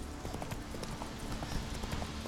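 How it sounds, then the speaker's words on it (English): Horse hooves galloping in The Witcher 3, a steady fast clip-clop rhythm running through the whole stretch at moderate level over game ambience. "So, one quick last horse ride to the final destination."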